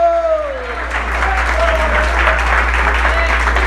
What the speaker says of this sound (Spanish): Dale un aplauso fuerte al Rey soberano Jesús.